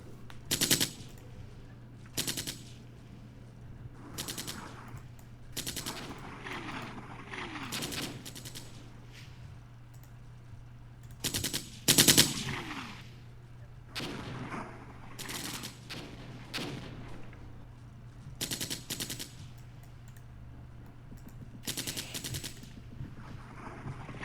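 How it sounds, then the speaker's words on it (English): Bursts of automatic and single-shot gunfire from units in Armored Brigade crackle repeatedly over a low rumbling battlefield, loud volleys spaced irregularly across a long exchange of suppressing fire. "suppressing fire from other units is stopping the enemy from even returning fire"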